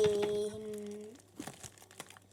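A wrapped gift is being opened, its paper crinkling and tearing in close, uneven bursts after a few seconds of louder tonal sound at the start.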